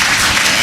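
Brief, loud applause from a college audience in Mayiladuthurai welcoming the poet Andal Priyadarshini, a dense wash of clapping with no talk over it.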